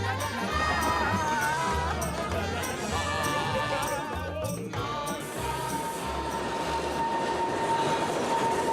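Trans-Siberian railway train running on its long journey, a steady loud rumble of wheels and carriage with rhythmic low clunks and a continuous high tonal whine, heard from inside the moving car without talk.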